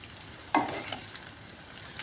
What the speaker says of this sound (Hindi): ये तड़का हमारा डालने के लिए, साग के अंदर डालने के लिए तैयार है